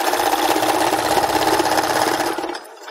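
Sewing machine running an even stitch down scarf fabric for a handmade Christmas gift, a close, rapid mechanical whirring chatter for over two seconds that then slows and stops.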